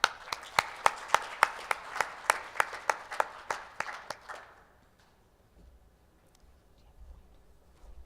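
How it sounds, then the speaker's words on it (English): A short burst of crisp, rhythmic clapping at a forum in Seoul, about a dozen sharp claps in steady succession, then it stops and the room falls quiet. "with a warm round of applause"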